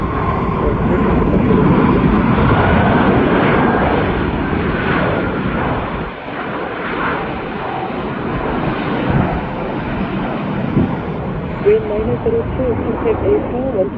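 A large airplane takes off at Incheon Airport, its engine roar loud and steady throughout, then easing slightly partway through, with air traffic control radio voices talking over it.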